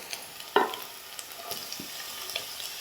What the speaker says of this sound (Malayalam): ബീട്രൂട്ട് ചേർത്തിട്ട് നന്നായിട്ടൊന്ന് വഴറ്റി കൊടുക്കുക.